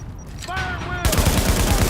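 Rapid bursts of gunfire in Tom Clancy's The Division, a dense stream of close, loud shots that erupts midway and keeps pounding, with a brief voice and whistling tones just before.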